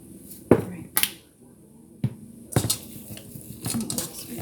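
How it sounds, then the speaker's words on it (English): Vegetables are stirred in a pan, with sharp utensil clacks and scrapes at irregular intervals, a few louder knocks standing out against a quiet background. "Stir my veggies a little bit."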